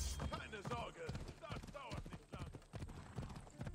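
Hooves clip-clop in a steady rhythm as a horse is ridden in Assassin's Creed Odyssey, running continuously under talking voices throughout.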